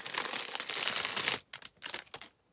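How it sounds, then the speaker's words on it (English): Plastic packaging around Tunisian crochet hooks being handled, with loud close crinkling for over a second, then a few shorter scattered crackles before it falls quiet. "Sorry for the crinkling."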